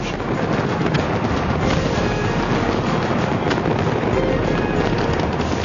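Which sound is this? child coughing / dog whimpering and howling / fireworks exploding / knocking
fireworks exploding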